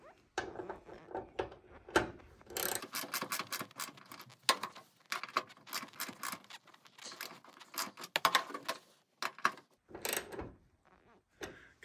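A ratchet tightens a bolt on an LED ditch light bracket during a Baja Designs Squadron Sport install with Cali Raised brackets, giving bursts of rapid close metallic clicking with short pauses between strokes.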